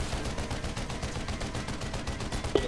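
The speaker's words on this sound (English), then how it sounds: "Somebody's shooting at us." Rapid automatic gunfire rattles continuously in the Planetside 2 video game during a Liberator gunship fight, a dense, steady stream of shots.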